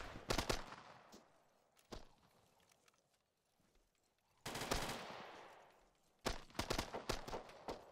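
Automatic gunfire in Arma 3 during a co-op combat mission: sharp bursts of rapid shots in clusters, some loud and close, with quieter pauses and scattered single shots between.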